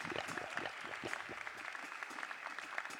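Audience applause at a prize-giving ceremony attended by the president and first lady, a steady wash of many hands clapping at moderate volume throughout, with no voices over it.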